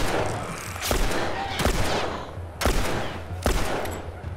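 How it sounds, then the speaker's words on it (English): Gunfire in The Last Of Us Remastered: four sharp, loud shots spaced roughly a second apart, each with a short echoing tail over a low rumbling background. "I'm gonna shoot every bullet I can"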